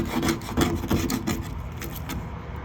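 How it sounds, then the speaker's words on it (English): A scraper tool strips old paint from a window with repeated rough, rasping strokes, close and fairly loud, in a steady back-and-forth rhythm. "This works good for windows, scraping paint or grit, anything off of them"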